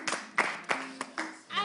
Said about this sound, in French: applaudis avec moi, on va accueillir M.